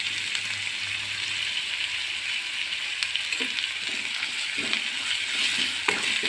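Sliced okra (vendakka) sautéing in a pan for curry makes a steady, close hiss and sizzle, with occasional faint stirring clicks and scrapes and no speech.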